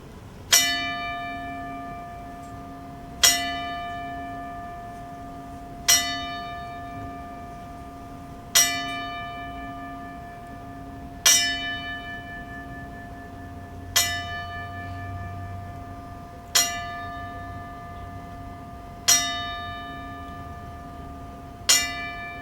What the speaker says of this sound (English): please join everyone involved with Ring of Honor as we honor Eddie Guerrero in a 10-bell salute